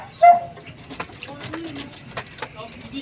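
Pigeons in a loft give soft, low coos and scattered calls close by, with a sharper call near the start and faint rustling between them.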